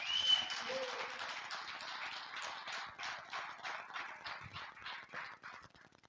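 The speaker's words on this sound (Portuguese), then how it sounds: "Só quem recebe, aplauda o Senhor bem forte." Church congregation clapping together, a dense steady patter of many hands that holds for the whole stretch at moderate distance, with no voice over it.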